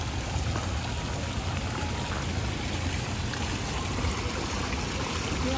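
A steady, even wash of rain falls in Kerala, a dense continuous hiss without breaks or distinct drops, moderately loud throughout.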